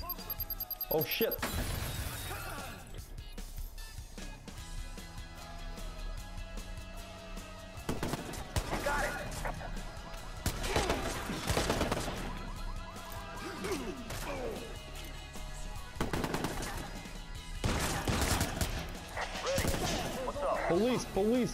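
Gunfire and shattering glass during a gang hideout fight in Watch Dogs, with loud repeated bursts and crashes, sirens wailing between them, and someone talking over the chaos.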